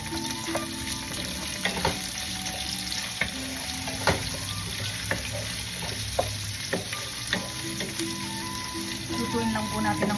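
Onions sautéing with garlic in a pan for pork igado, a steady close sizzle punctuated by regular scraping clicks of a utensil stirring, no voices.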